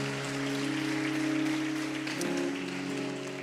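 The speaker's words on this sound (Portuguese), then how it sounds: "Aplauda ao Senhor mais uma vez." A church congregation claps together in a steady, dense patter, with sustained musical tones ringing beneath the applause.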